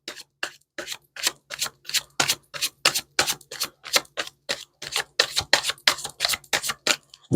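Tarot cards being shuffled by hand, a steady run of crisp riffling and slapping bursts, about two to three per second, close and alone with a faint low hum beneath.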